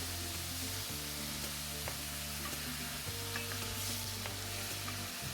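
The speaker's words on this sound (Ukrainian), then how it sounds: "викладаю м'ясо на добре розігріту пательню" Meat sizzles steadily in oil in a well-heated frying pan for an Orman kebab, with an even, continuous crackle and a few small stirring clicks, close and alone without speech.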